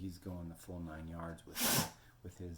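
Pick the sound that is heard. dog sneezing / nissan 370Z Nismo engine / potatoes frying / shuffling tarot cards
dog sneezing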